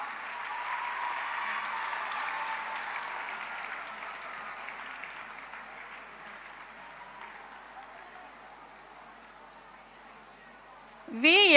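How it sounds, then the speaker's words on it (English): An audience applauds a school topper at an academy's annual day, sustained clapping that is steady at first and slowly fades, with a loud burst of other sound at the very end. "I expect a loud applause for the topper."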